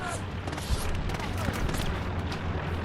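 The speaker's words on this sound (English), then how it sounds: "Got a little bit of MG42 action from Will Scott around the corner" Sustained MG42 machine gun fire in the World War II shooter Hell Let Loose on the Omaha map, a dense rattling barrage with distant booms mixed into the battle noise, heard continuously with no clear pauses.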